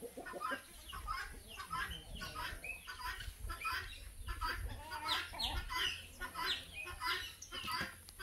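Chickens cluck repeatedly at a backyard or farm setting in Brazil, a continuous run of short, choppy calls from several birds at moderate distance, with faint low rumble underneath.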